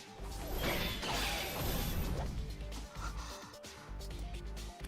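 Short sharp gasp in Fate/stay night, caught amid a loud crash and whooshing clash of swords, followed by scattered clanks and thuds with no talk.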